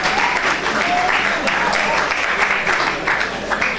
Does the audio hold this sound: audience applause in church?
yes